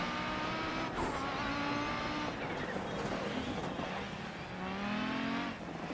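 An Audi rally car in Dirt Rally, its engine revving and shifting through gears with rising and falling pitch, tires scrabbling on the surface, no talking.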